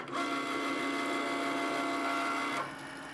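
A Cricut cutting machine runs after its button is pressed, cutting iron-on vinyl: a steady, close mechanical whir with a motor hum that holds level for most of the clip, then drops off abruptly near the end.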